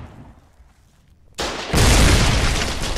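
A fired round explodes in the Foxhole WW2 video game: after a quiet lead-in, a sudden loud blast erupts and rolls into a sustained heavy boom, with no talk.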